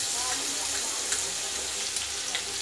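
A paste of ginger, green chili and garlic fries in hot oil, giving a steady, fairly loud hiss close by with a few small crackles and no talking.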